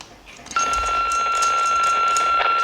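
A Weierwei UV-338+ 5W handheld radio gives a steady electronic receive tone that switches on abruptly and holds at an even loudness, with some faint static in the background.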